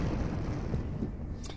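An explosion sound effect added during editing: a dense, low booming roar that rumbles on for over a second without any talking.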